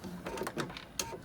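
A sewing machine stitches fabric for a pencil holder, a brief burst of quick, rhythmic mechanical needle pulses, close and faint.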